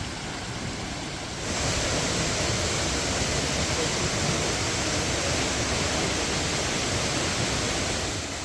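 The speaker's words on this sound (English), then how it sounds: "The hidden gem, a waterfall right next to the city center." A waterfall in Tbilisi's city center, Georgia, roars as a steady, loud broadband rush of falling water that swells slightly after the opening second and then holds constant.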